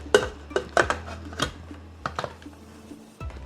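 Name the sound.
pan being covered with a lid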